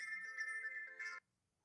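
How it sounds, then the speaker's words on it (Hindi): An electronic phone ringtone plays a steady melodic tone for about a second, then cuts off abruptly into silence. "अरे किसका फोन आ गया?"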